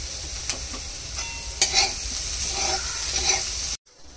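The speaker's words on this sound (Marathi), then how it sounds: "त्याला पुन्हा एकदा परतून बघूया।" French beans with garlic sizzle in a pan as they are stirred, a close, steady frying hiss with light scrapes and clinks, cutting off abruptly at the end.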